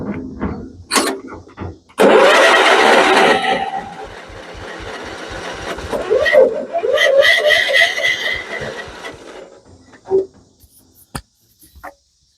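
A Kohler 12.5 HP engine on a John Deere STX38 lawn tractor cranks on starting fluid with a rhythmic, chugging starter churn. It makes a couple of long cranking runs with faint, uneven catches, then a sharp pop near the end.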